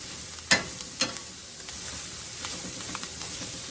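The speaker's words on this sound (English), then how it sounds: "We're going to cook them now until our onions and stuff get a little bit sauteed like in there." Cabbage, sausage and onions sizzle steadily in a frying pan, a close and continuous hiss broken by two sharp clanks of a utensil stirring at the start, with no talking.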